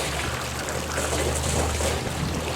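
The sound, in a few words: water being pumped up onto the roof, filling it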